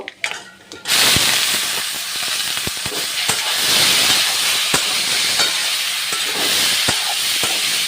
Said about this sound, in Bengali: এখন আমি সেদ্ধ করা আমড়াগুলো দিয়ে দেব